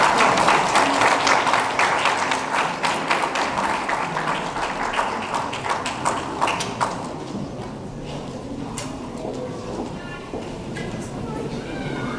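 Audience applause at a high school graduation ceremony as graduates come up to the stage, dense clapping loudest at first then thinning and fading into a quieter murmur.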